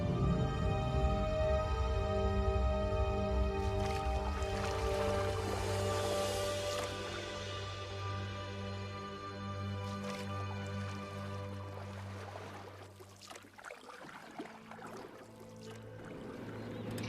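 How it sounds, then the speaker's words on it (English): A strengthened expedition ship pushes through thickening Antarctic sea ice: a steady low engine drone under grinding, scraping and crunching bursts as the hull meets ice, with rushing water in between. "The ship skates through the ice as it gets thicker and thicker"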